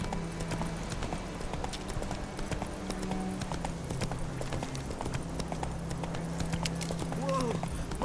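Roach the horse gallops through The Witcher 3 in a steady, rapid clip-clop of hooves that carries on throughout, with voices talking intermittently over the hoofbeats.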